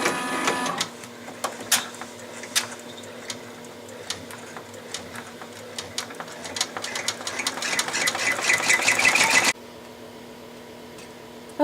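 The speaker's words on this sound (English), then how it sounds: "We're going to run the first step, which is going to be the placement stitch" Embroidery machine stitching the placement outline for an in-the-hoop tooth fairy pillow, a fast steady mechanical whir and rhythmic needle ticking close by that grows busier before stopping abruptly near the end.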